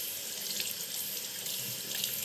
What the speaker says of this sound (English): So, let's start by washing it with some more water.